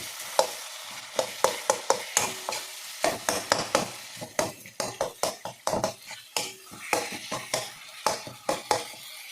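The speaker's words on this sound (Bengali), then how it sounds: "পরিমাণ মতো লবণ দিয়ে দিব ঠিক আছে দিয়ে ভালো করে কিছু নেড়ে নেব" A spoon or spatula stirs egg curry ingredients frying in a pan, with rapid repeated scraping and clinking strokes over a low sizzle, close and fairly loud.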